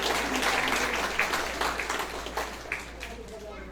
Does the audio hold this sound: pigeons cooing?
no